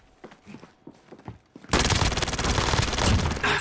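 Gunfire in a first-person shooter game: after a brief stretch of quiet speech, a loud, sustained volley of rapid automatic shots erupts and continues close and dense to the end.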